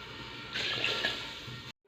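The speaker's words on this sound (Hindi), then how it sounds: "तो मैं 3 कटोरियाँ जो है वो पानी की डालूँगी" Water pours into a cooking pot for rice pilaf, a steady splashing rush that swells midway and then cuts off abruptly.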